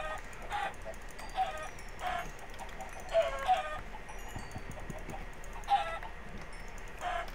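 Minecraft chickens cluck in short bursts, several soft calls scattered through a quiet game scene at moderate distance, with no talk over them.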